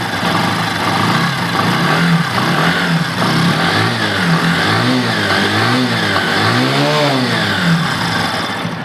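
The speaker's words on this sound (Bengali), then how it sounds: "এখন আমি বাইকটি স্টার্ট করব ইঞ্জিনের সাউন্ডটি আপনাদের শোনাবো" A motorcycle engine runs loud and close, idling and then revving up and down in repeated rising and falling surges, with no voices.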